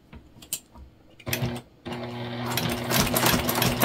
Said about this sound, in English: We are just going to sew first here at the top.